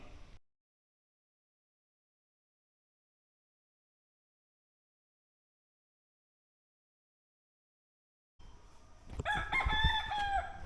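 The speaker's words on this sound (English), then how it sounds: "Cock-a-doodle-doo." A rooster crows once, loud and close, after a long stretch of silence, its rising and falling call filling the final two seconds.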